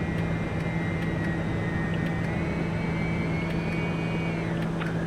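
TBM 900 turboprop taking off in a flight simulator, a steady droning engine hum with a high whine that shifts gently in pitch through the climb, with no voices.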